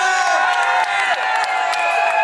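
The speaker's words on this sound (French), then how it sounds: "Est-ce qu'on peut applaudir pour le Dongo Dongo?" An indoor crowd at a ceremony for trainee civil servants cheers and claps for a presented dish, loud and close, with whoops and raised voices over a burst of applause.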